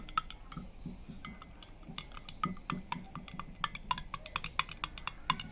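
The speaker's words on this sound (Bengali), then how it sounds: "কিছুক্ষণ সময় একটু নাড়তে থাকেন" A spoon stirring a thickening mixture in a pot, with repeated light metallic clinks and scrapes of utensil against the vessel, close and fairly quiet, in an irregular rhythm.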